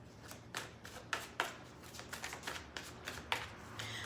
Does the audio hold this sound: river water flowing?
no